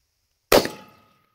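A 6.5 Creedmoor rifle fitted with a three-port Precision Armament M4-72 muzzle brake fires once outdoors. The single sharp, loud crack comes after silence and rings out in a short fading tail.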